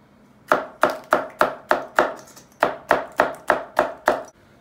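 A knife chopping a fiery hot pepper for a quick chicken pan dish: about a dozen crisp, evenly spaced cuts in a steady rhythm, with one short pause midway. The cuts are close and loud, and no one speaks.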